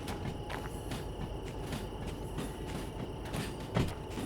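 A locomotive in the Derail Valley train simulator backing up slowly on blocked sidings, a steady low rumble with soft rhythmic clicks of wheels over rail joints and one brief louder clank near the end.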